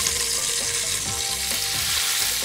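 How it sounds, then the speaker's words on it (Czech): Seasoned, larded meat sears in a hot frying pan with a loud, continuous sizzle and crackle, close and steady, no voices. "Opeču na pánvi."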